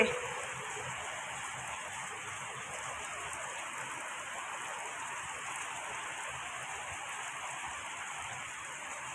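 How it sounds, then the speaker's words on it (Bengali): Heavy rain pours in a constant, dense hiss that stays even throughout, fairly soft and heard from indoors, with no talking. "জোরে বৃষ্টি হচ্ছে গো প্রচণ্ড পরিমাণে বৃষ্টি হচ্ছে"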